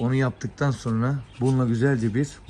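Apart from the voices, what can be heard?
No distinct noise like a dog, phone or traffic.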